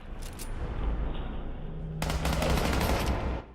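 Rapid automatic gunfire in Fallout 4 VR, a burst of sharp cracking shots followed by a louder sustained volley in the second half, close and intense.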